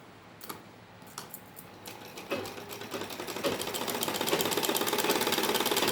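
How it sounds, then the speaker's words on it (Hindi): A sewing machine stitches a salwar hem, starting with a few isolated needle strokes and then speeding into a steady, rapid close-up rattle that grows louder toward the end. "अब हम एक सिलाई लगाएंगे इधर"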